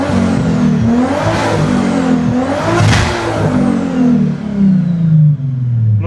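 Nissan Skyline engine revving steadily as the throttle is pressed, a loud close mid-pitched roar rising and falling in two strong surges over several seconds with no talking.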